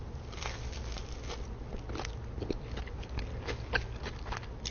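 Crunchy Korean street corn dogs being bitten and chewed, a steady run of close crackling crunches over a constant background hiss, moderately loud.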